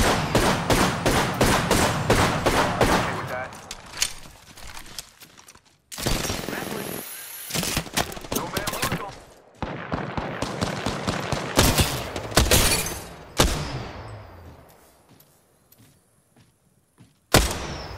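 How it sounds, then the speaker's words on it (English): Gunfire in the battle royale video game Apex Legends, with rapid automatic bursts and single loud shots, several sustained volleys separated by short pauses, along with mechanical clicks and thuds and some talk. "Opening fire."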